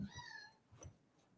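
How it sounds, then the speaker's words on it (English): A house cat lets out a drawn-out meow, followed by a couple of softer, shorter cries in a quiet room. "And the cat getting on my damn nerves."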